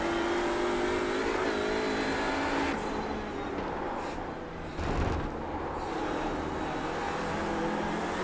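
An Audi RS 3 LMS race car in iRacing at Mid-Ohio, engine droning steadily and climbing in pitch, briefly easing off around a gear change or braking before pulling hard again, close and continuous.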